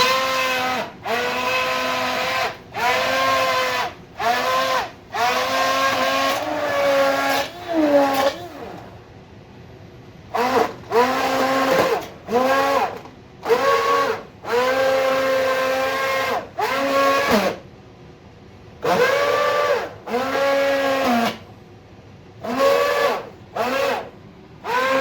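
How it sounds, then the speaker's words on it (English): A blender grinds in repeated loud bursts of a few seconds each, separated by short pauses, its motor whining with a harsh, strained pitch. "That is one angry sounding blender, isn't it?"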